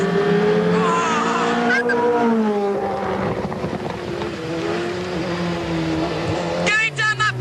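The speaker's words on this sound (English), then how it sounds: "Going down that back straight in 6 gear. Yes, there's a lot of power throughout the rev range" A 1998 Formula 1 car at full throttle in sixth gear on a back straight, its high engine whine rising steadily and close, then dropping sharply near the end, with a brief voice exclamation.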